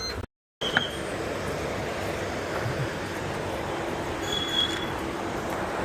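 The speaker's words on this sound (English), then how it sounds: "We're gonna ride the train." Continuous rumbling of a moving Mumbai local train with rattling wheels and a faint squeal, steady and close, after a brief cut at the start.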